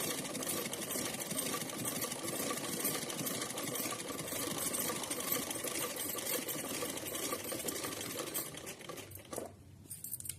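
An electric sewing machine stitches fabric for a small doll dress, its needle chattering in a fast, steady run close up for several seconds before it briefly eases off near the end.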